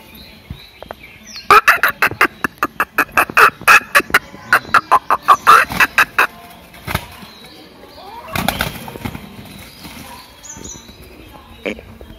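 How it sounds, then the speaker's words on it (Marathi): Roosters fighting on a village morning: a fast run of sharp, rhythmic wing-flapping bursts and squawks, loud and close, then a scuffling flurry and quieter clucking afterward. "काही सकाळी कोंबड्यांचे झुंज चालू होते"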